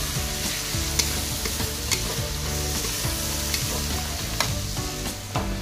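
Food sizzles in a pan of hot oil for a light shallow fry, a loud continuous crackle with rhythmic stirring scrapes repeating throughout, close by and without speech.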